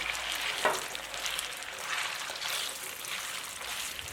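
Marinated chicken with garlic stir-fried in oil in a heated clay pot, a steady close sizzle with a sharp utensil scrape near the start and light stirring throughout.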